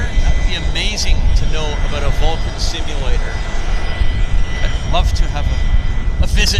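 A WestJet airliner at Vancouver Airport gives a steady, loud engine roar that fills the whole stretch, with people talking over it now and then.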